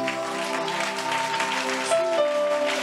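A church congregation applauds during a Sunday service, steady continuous clapping filling the space with a bright crowd wash and some voices mixed in.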